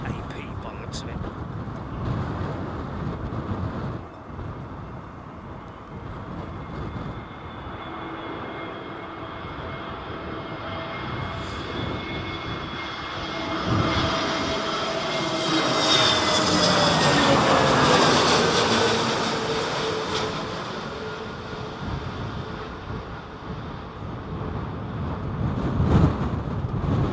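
A TAP airliner comes in to land at Heathrow in Storm Isha winds, its engine roar swelling to a peak midway and fading, with gusty wind noise throughout and people talking over it.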